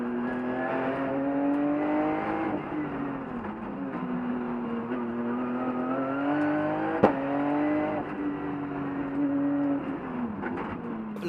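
A Porsche GT2 turbo race car climbing a mountain hill-climb course at Turckheim, engine revving and shifting through gears with rising and falling pitch, heard steadily from close by, no talking.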